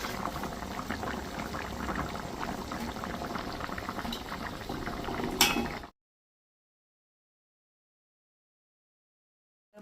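Fish curry bubbling in oil in a pot, a steady close crackling simmer with a brief louder sputter, then cutting off abruptly into silence.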